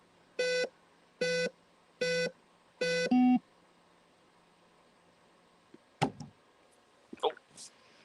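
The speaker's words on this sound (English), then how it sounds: "Oh, now it's beeping." Four evenly spaced electronic beeps from an unidentified device in a farm shop, loud and close, followed by a shorter double tone, then a few scattered knocks and clatter in an otherwise quiet room.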